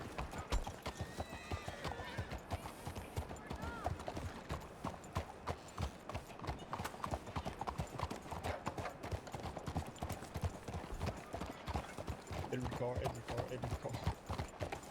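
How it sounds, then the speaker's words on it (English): Horses' hooves clip-clop in a steady, busy rhythm throughout, close and prominent, with a horse neighing at times and people talking over the hoofbeats. "There's horses below."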